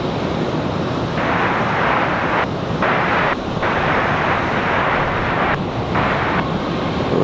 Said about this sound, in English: Nice early rotation for Breeze.